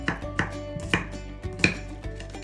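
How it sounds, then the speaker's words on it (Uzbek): Bell peppers, onion, tomato and garlic being chopped with a knife on a board, irregular close knocks of about seven cuts, with no talking. "bulg'or qarampirlari, piyoz, pomidor va sarimsoq piyozlarni maydalab to'g'rab olamiz"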